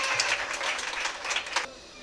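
A crowd applauds a prize winner at an International Women's Day prize distribution, a brisk round of many clapping hands that stops abruptly near the end, leaving quiet room tone.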